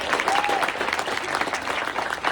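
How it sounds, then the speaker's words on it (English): An audience applauds steadily for Joe at a Long Island gathering, a dense, continuous round of clapping at moderate level with a faint voice briefly audible beneath it. "let's give Joe a round of applause for really leading the way here on Long Island"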